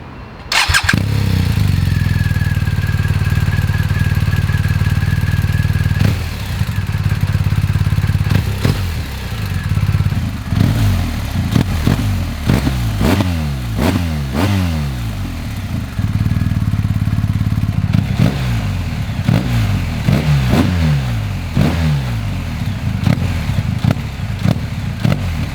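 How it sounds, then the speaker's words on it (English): A BMW R 1250 GS motorcycle's boxer engine rumbles close by with a low, lumpy idle, punctuated by repeated sharp throttle revs that rise and fall throughout. "I just cannot stand the sound of a boxer engine myself"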